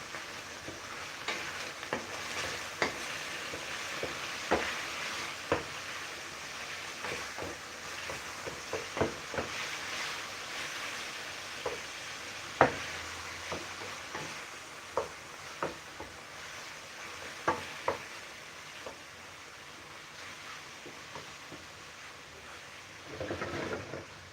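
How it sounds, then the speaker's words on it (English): Pasta and chicken stirred in a hot pan, a steady low sizzle of frying broken by scattered scraping and clacking stir strokes, close and moderately quiet. "And I mix it well."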